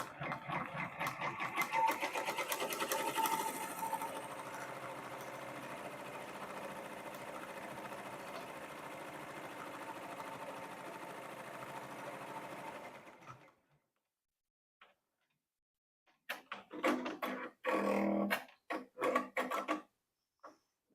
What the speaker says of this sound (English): I'm going to stitch out the other side.